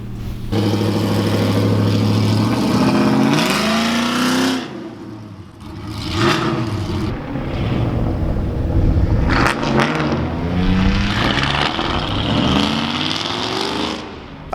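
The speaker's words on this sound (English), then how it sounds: "Everyone's just revving them up." Race cars rev their engines on race day at a meadows track, with a loud stock 6.2-litre Camaro V8 roaring nearby in repeated rising and falling bursts and a few brief pauses, no talking.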